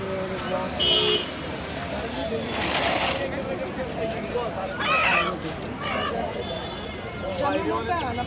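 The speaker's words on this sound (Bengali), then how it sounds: "এটা কি জাতের মুরগি" Chickens cluck and squawk in short bursts amid busy market noise, with people talking nearby.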